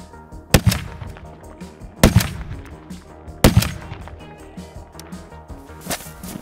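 Suppressed .50 caliber rifle firing three heavy shots spaced about one and a half seconds apart, each a sharp loud crack followed by a rumbling decay, close by with no talk.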